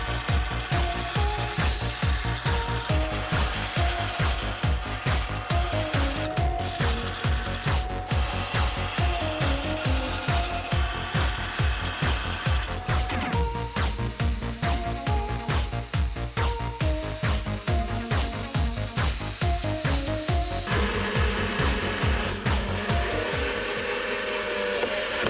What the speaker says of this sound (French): on va devoir tout poncer à la ponceuse stationnaire